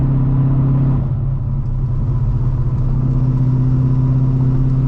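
A loud cammed Corvette C5 cruising, with a deep steady engine rumble heard from inside the car, easing briefly before holding its drone again, close and loud with no talking.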